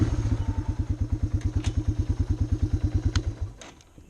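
Four-wheeler ATV engine running on a newly cut woodland trail, a steady, fast pulsing putter that stays close and loud before cutting off near the end.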